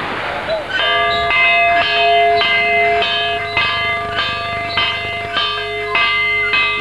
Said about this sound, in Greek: Στο Λούκοβο, η καμπάνα χτυπά και πάλι ύστερα από 27 χρόνια.